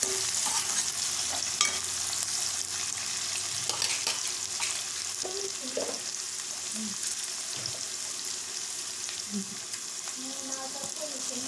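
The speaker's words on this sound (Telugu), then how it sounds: "మనం తరిగిన ఉల్లిపాయ, పచ్చిమిర్చి వేసి బాగా దూరగా వేయగనివ్వాలి." Chopped onions and green chilies frying in oil in a pan for chicken curry give a steady bright sizzle throughout, with occasional stirring scrapes and light utensil taps.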